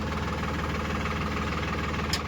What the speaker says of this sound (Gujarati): અને રમેશભાઈ આવે છે ટ્રેક્ટર આ સામે લઈને, મહિન્દ્રા ટ્રેક્ટર છે